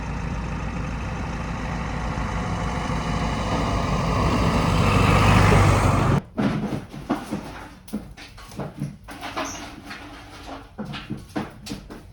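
An MTZ tractor's engine gives a loud, steady rumble for about six seconds, then cuts off abruptly, leaving quieter scattered knocks and rustles.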